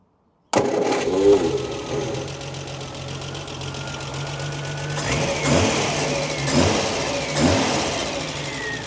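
A Triumph Spitfire GT6 with running issues starts up close by, idles roughly, then revs several times in rising bursts before dropping back to a loud uneven idle.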